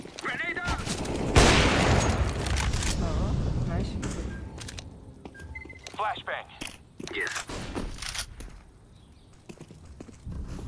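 Grenade and flashbang blasts in a shooter game: a loud burst early on followed by scattered sharp bangs and clatter, mixed with game noise and busy action sounds.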